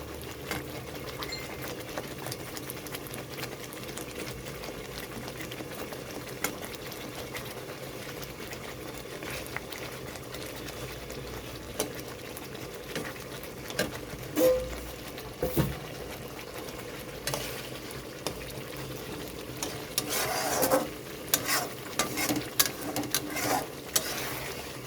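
Katla fish simmers in a spinach curry with a continuous low bubbling and rattling burble, close and moderately quiet, with the popping growing busier and more uneven toward the end.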